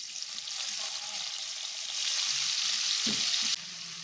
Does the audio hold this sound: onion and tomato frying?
yes